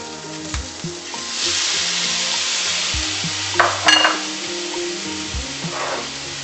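Onion and tomato sauce sizzles in a pan, a constant close hiss broken by occasional stirring scrapes and clinks of a utensil, with no talk.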